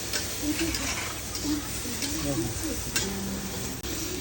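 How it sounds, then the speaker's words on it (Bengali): Soybean chunks frying in a pan with a light sprinkle of salt: a steady sizzle broken by repeated scraping stirs, with a voice talking over it. "সোয়াবিনটা কিন্তু অলমোস্ট ভাজা ভাজা হয়ে গেছে"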